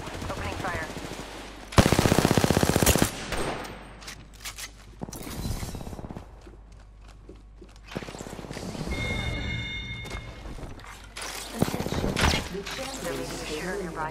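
Rapid automatic gunfire in a video game, played as Rampart, comes in loud, dense bursts separated by short pauses. Footsteps, mechanical clatter and some game voice lines fill the gaps.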